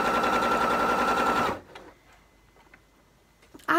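A sewing machine runs near full speed in a fast, even mechanical rattle for about a second and a half, then stops abruptly, leaving quiet room sound and a few soft clicks.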